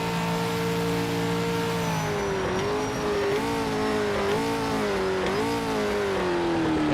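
A race car engine revs hard on a qualifying lap in a racing video game: a loud, continuous whine that holds steady, then dips and climbs through several quick pitch swings as it shifts and accelerates, with no talking.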